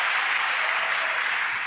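Thousands of hands clap together in dense, continuous applause, a loud, even wash of crowd clapping that fills the moment without voices.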